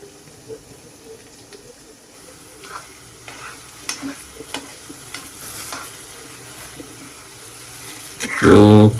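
Finely chopped onions and garlic fry in oil with a low sizzle and intermittent stirring scrapes, ending in a sudden loud, close clatter.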